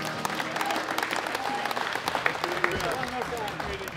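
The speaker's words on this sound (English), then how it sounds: "Give them a round of applause" A round of applause for medal winners at a world classic powerlifting championship, a moderately distant crowd clapping steadily in a large hall, with an announcer's voice audible underneath.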